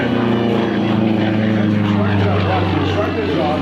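A propeller aerobatic airplane performs maneuvers at the 2001 NAS Lemoore airshow, its engine droning loud and steady with a shifting pitch as it climbs and rolls, with a commentator talking over it.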